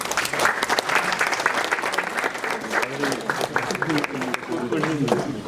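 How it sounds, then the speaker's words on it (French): Audience at a careers talk with a former Olympique Lyonnais footballer breaking into loud, sustained clapping, with voices murmuring and speaking underneath throughout. "On peut applaudir aussi."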